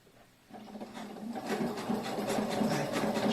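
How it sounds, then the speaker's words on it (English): A sewing machine chain stitching the seam of a shoulder bag starts up after a quiet moment and then runs in a steady, rapid mechanical rattle, close and moderately loud. "I chain stitch the second piece, keeping my eyes on the guide."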